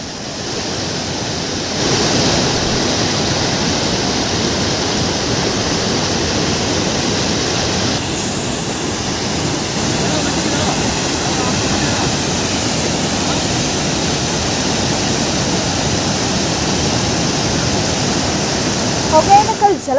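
Hogenakkal waterfall on the Kaveri river in flood, a loud, steady roaring wash of falling water that swells after the first couple of seconds and continues without a break.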